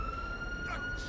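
Police sirens wailing in GTA 5 as officers arrive, a thin steady tone heard faintly at a distance over a low background hum.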